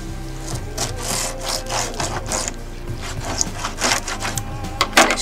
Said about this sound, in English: Now I'm going to cut the tail off. I'm going to use my serrated knife.